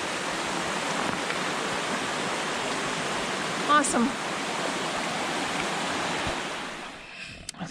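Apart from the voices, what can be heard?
water running beside a hiking trail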